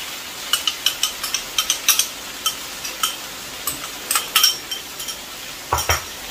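A utensil stirs vegetables and chow mein sauce in a hot pan, scraping and clinking against the metal in a quick irregular rhythm of sharp taps over a soft sizzle, close and fairly loud, with no voices.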